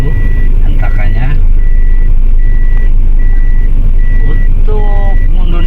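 A 2014 Daihatsu Terios TX with an automatic gearbox reverses, its reversing alarm repeating steady, evenly spaced beeps over a loud engine rumble while someone talks close by.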